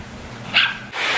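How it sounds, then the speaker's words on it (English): Dogs playing at a boat port in Bacalar, Mexico, give a short bark or yip at mid-distance, followed by a second burst of sound over faint background noise. "And there are so many dogs and they just want to play."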